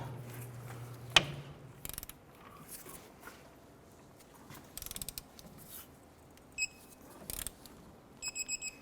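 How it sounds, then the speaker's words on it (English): A torque wrench tightens the upper rear strut bolt on a 2006–2013 Chevrolet Impala to 96 foot-pounds. Close, sharp ratcheting clicks come in several separate bursts, with quiet pauses between them. "Let's go ahead and torque our upper bolt to 96 foot-pounds."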